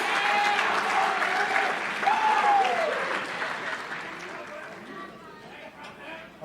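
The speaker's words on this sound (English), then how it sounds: "Please give them all a round of applause." Sustained applause from a crowd at a bowling awards banquet, the 2019 ITC Night of Champions, steady and full throughout with a brief surge around the middle; a voice or whistle-like tones rise briefly above the clapping.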